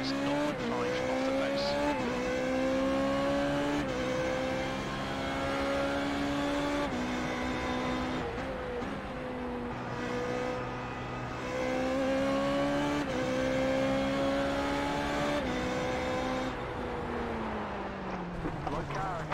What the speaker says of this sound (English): So you better have not any wheel spin at all with that massive engine in the back.